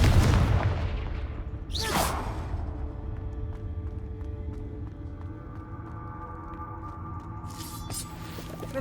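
A Confringo explosion spell goes off in Hogwarts Legacy, a loud booming burst at the start that decays into a long rumbling tail, with a second sharp whoosh after a couple of seconds and low game ambience beneath.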